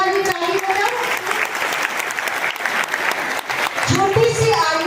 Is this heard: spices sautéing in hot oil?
no